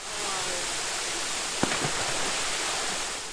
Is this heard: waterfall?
yes